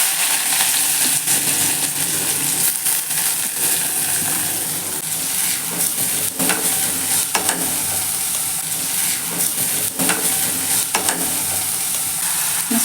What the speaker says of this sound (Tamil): இப்போ கொஞ்சம் எண்ணெய் சேர்த்துக்கிறதுல எண்ணெய் சூடு ஏறிச்சு. வெங்காயம் சேர்க்குறேன்.